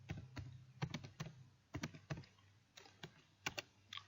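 Keys on a computer keyboard clatter in uneven bursts of quick, close, quiet taps separated by short pauses, with no voices.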